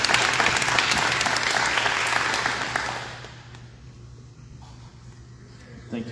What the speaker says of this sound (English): let's give his brother a round of applause